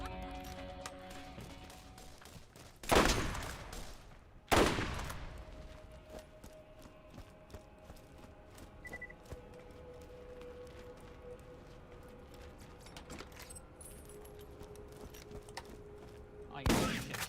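Two loud, close gunshot blasts from the video game Borderlands, a second or so apart, then a third burst near the end. Steady game background noise runs between them.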